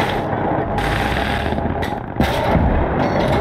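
Tank gunfire and artillery blasts in the World War II video game Gates of Hell: Ostfront, heavy booming shots and rumbling impacts in a dense battle soundscape, loud and repeated over a few seconds.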